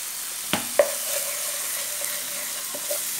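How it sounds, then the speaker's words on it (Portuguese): Rice with saffron sautés in a pan, making a continuous close sizzle broken by a few sharp clinks and scrapes of stirring. "Vou refogar ele, aí eu volto."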